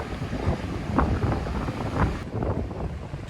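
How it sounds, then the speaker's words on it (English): Waves roaring on a wild, windy day in Edinburgh: a dense, continuous surf wash is buried under heavy wind buffeting on the microphone, with rolling surges and no voices. "You can hear the waves roaring."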